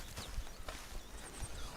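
A horse in the open-world western game Red Dead Redemption 2 gives a few quiet hoof clops, spaced irregularly over soft outdoor ambience, heard at a distance.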